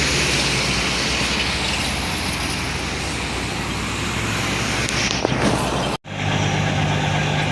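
Heavy trucks labour up Winston Jones Highway in Jamaica, a loud continuous diesel roar and rumble close by that holds steady, then cuts off abruptly near the end, leaving a quieter background hum.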